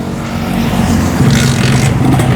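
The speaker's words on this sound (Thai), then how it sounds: "มาสตาร์ทให้ฟังเสียงเลยดีกว่า" A two-stroke motorcycle engine starts and runs loud and close with a raspy, buzzing idle that rises slightly, no voices.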